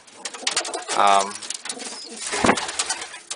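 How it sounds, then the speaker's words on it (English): Domestic pigeons cooing in a breeding loft, with soft repeated throaty coos rising and falling close by over a busy background of other bird sounds. "You can see that one's cooing."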